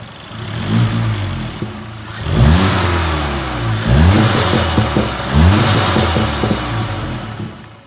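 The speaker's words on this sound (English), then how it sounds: "Let me get some turbo noise for you guys, because I think you guys probably want to hear a little bit of turbo" A Volkswagen GTI engine revs in three strong bursts beside the open intake, each rise ending in a turbo whoosh and flutter, loud and close with an idle between pulls.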